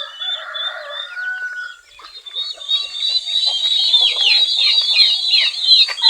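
Plymouth Rock chickens cluck and chatter in a steady, busy flock, with a brief crow near the start; close and fairly loud, no talking.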